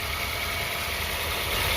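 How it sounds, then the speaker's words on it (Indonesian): A used car's engine idling, heard up close as a steady, dense mechanical hum with a faint uneven roughness, running continuously without any talking. "Setelah itu kita dengarkan suara mesinnya"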